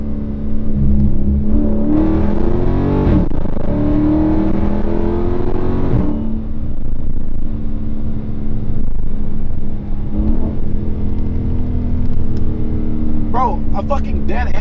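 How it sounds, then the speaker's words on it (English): Dodge Scat Pack 392 V8 engine revving hard with rising and falling pitch through a burnout, then settling into a steady loud drone inside the car. "I can do a burnout right here"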